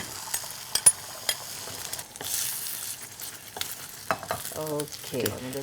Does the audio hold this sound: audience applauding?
no